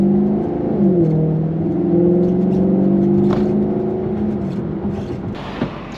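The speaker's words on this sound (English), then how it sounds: "that sound that it makes through the shifts, little burble sounds when you let off" A Maserati GranTurismo Sport's engine revs up and settles in a deep, loud, rising and falling drone, ending with faint burbling crackles as the throttle eases off.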